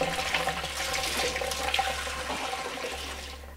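Tap water runs steadily over rhubarb stalks being rinsed, a continuous close splashing rush that thins out near the end.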